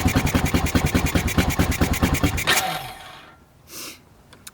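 Honda Rancher 350 quad engine idling with the choke on, a loud close pulsing chug that holds steady for a few seconds, then cuts off and fades into quiet with a brief faint noise afterward.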